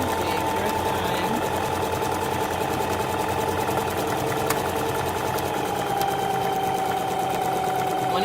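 A Singer Heavy Duty sewing machine runs steadily while stitching a buttonhole, a continuous close mechanical whir with fast rhythmic needle clatter and a faint hum, unbroken for the whole stretch.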